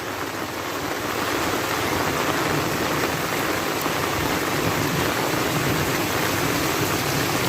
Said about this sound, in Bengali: মারাত্মক লেভেলের ভারী বৃষ্টি হচ্ছে